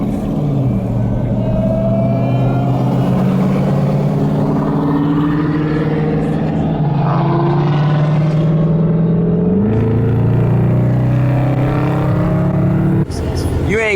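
A car engine revs hard at a car meet, its loud, deep rumble holding steady before climbing sharply and then cutting off, close by, with people talking over it.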